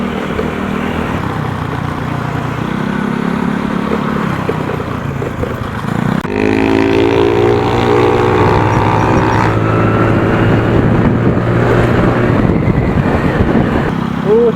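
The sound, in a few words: off-road motorcycle riding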